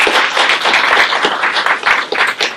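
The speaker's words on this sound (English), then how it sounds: "so let's give her a round of applause." A township meeting audience claps close and loud in a brisk, steady round of applause lasting a few seconds, with no talking over it.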